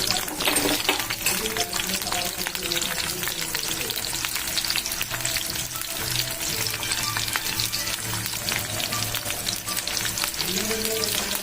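Onions, green chillies and curry leaves frying in hot oil for a curry, a loud dense crackling sizzle with stirring clatter, steady for the whole stretch, with no speech.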